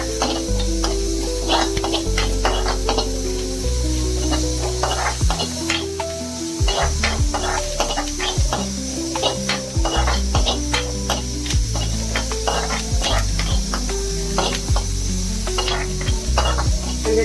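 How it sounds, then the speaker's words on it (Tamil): Onion, cumin, poppy seeds and fennel fry in a pan for a mutton sukka masala, a constant close sizzle broken by repeated scraping stirs, with faint talk in the background. "இந்த சீரகம், வெங்காயம், கசகசா எல்லாமே, சோம்பு எல்லாம் நல்லா வதங்குறதும்"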